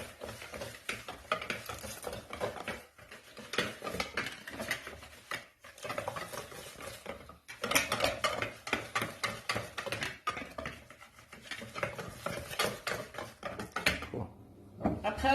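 Maakouda dough is mixed by hand with lukewarm water, giving continuous wet squelching and slapping textures in an irregular rhythm, close and moderately loud, with short pauses.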